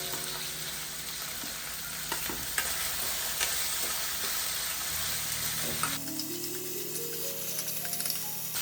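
Tomatoes drop into onions frying in a pan, and the steady sizzle changes as the moist pieces go in, with scattered stirring scrapes; close, continuous and without talk.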